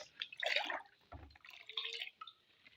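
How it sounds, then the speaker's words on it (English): Water tipped from a one-litre cup into a mango hand wash mixture, splashy gurgling pours and drips in short uneven bursts, close-up and moderately quiet, with no voices. "The next thing I'll do is to add my 3 liters of water, and I'll stir."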